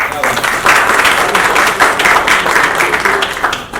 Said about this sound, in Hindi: एक बार तालियां इस चीज के लिए.